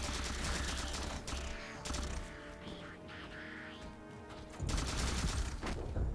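Halo 4 gunfire during the opening campaign mission Dawn: loud bursts of rapid weapon fire at the start and again near the end, with a sparser, quieter battle mix in between and no talk.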